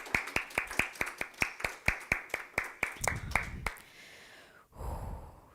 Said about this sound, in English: Can we have one more round of applause for Dallas?